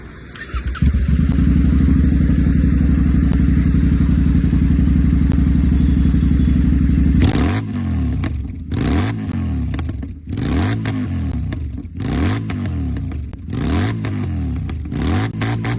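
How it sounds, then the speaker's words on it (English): A Royal Enfield Interceptor 650 motorcycle with a loud barrel slip-on exhaust idles with a deep, steady drone, then revs hard in repeated sharp bursts, close and booming. "So the barrel exhaust is one of those exhausts that are meant to be loud as only a slip-on"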